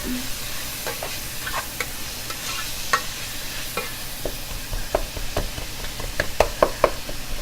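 A spoon stirs seasoned meat, dusted with seasoning salt, in a pot for taco soup, making repeated soft scrapes and clinks against a low sizzling hiss, close and steady, with no talking.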